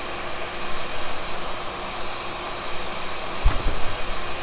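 A simulated Airbus A320 in easyJet livery sits at Gatwick in X-Plane 11 with its jet engine spooling up as it starts, a steady broadband roar with a brief thump partway through and no voices.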